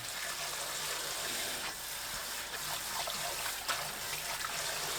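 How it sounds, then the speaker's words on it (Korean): Angelica (dangui) leaves are rinsed by hand in a bowl of water in a home kitchen, giving a steady, close trickling and sloshing that runs evenly without pause. "2~3번 헹궈주세요."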